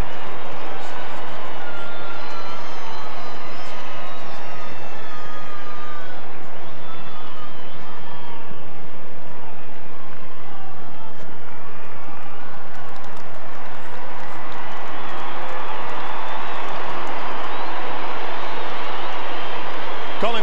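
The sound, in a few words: crowd cheering as Collingwood run onto the MCG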